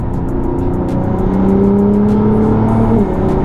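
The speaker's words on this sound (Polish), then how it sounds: "To jest redukcja do czwórki." Nissan GT-R engine holding a steady drone, then rising in pitch as it accelerates after a downshift to fourth gear, heard close from inside the car with no talk.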